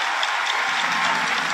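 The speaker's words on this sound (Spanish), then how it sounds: "No hace falta que lo sigan aplaudiendo" An audience claps for an accordion player at a live drum-circle concert, a dense, steady patter of applause that fills the whole brief moment.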